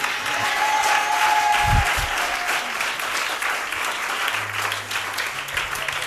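Church congregation applauding the Lord, steady sustained clapping from a crowd filling the room, with a brief low thump and some voices mixed underneath.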